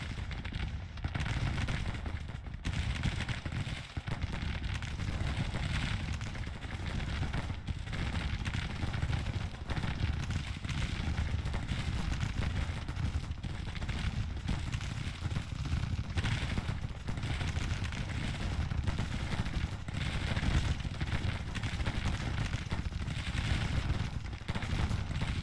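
Rifle and artillery fire in the video game Grand Tactician during a Confederate 1864 battle near Fredericksburg, a continuous distant rumble of musketry with scattered cannon booms throughout.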